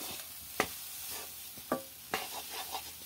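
Flour being stirred and roasted in a pan at home until crisp: a low sizzling hiss with a few sharp spoon scrapes and taps, close by and fairly faint, no voices.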